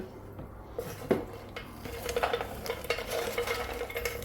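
Food being stirred in an air fryer basket after it has been opened partway through cooking, with almonds among the contents: soft scraping and light metallic clinks over a low hum, close and moderate in level, with no voices.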